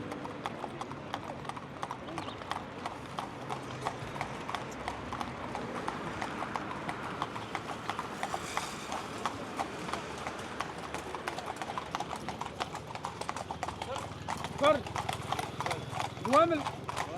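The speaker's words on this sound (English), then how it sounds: "So I'm sitting on a horse carriage now" Horse carriage hooves clip-clop in a steady trotting rhythm on pavement in Marrakesh, with street noise and people talking in the background.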